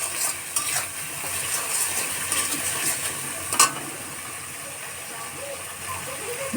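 Chicken kosha is stir-fried in a pan with salt and turmeric and no water, giving a continuous sizzle with repeated spatula scrapes and one sharper clatter midway.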